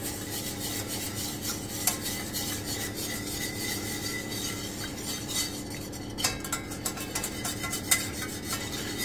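A utensil stirring cheese sauce with water in a pot, a continuous soft scraping and rubbing with occasional light clinks against the pot, fairly quiet and steady throughout.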